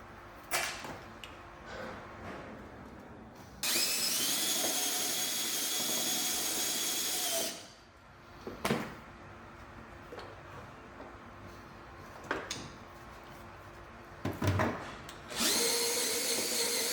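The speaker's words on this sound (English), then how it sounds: "first what we use is our drill with our bit on it" A power drill bores a hole into a Honda Goldwing GL1800 motorcycle during a dual USB charger install, whirring in several steady bursts with short pauses and clicks between them, close by and without talk.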